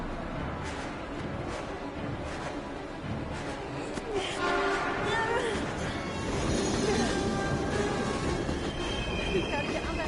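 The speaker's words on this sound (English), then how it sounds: "We've got to get on that train, Ethan." A train passes in the video game Heavy Rain, with rumbling wheels, squealing rails and horn blasts, loud and continuous, and voices heard faintly underneath.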